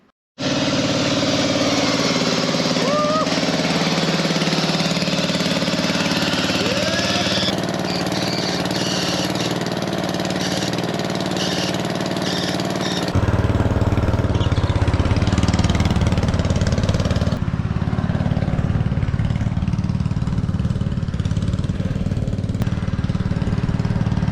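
Petrol lawn mower engine, with its carburetor stripped and jets blown clean, running continuously at a steady loud drone, the pitch and load shifting partway through and settling into a rougher, heavier note.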